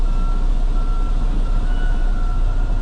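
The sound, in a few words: truck reversing beeps while backing up to a container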